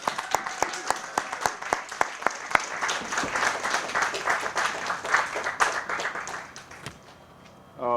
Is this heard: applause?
yes